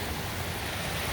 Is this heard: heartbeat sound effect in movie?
no